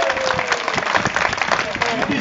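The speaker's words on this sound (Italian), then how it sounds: "L'applauso di Castiglione del Lago." A crowd gathered for a cycling tour event in Castiglione del Lago applauds, with dense clapping mixed with voices and bustle, steady and fairly near.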